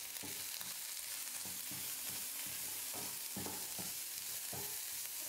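Chopped onions sprinkled with a little salt sauté in a pan for sundal prasadam: a soft, even sizzle punctuated by regular stirring scrapes, fairly quiet and with no voices.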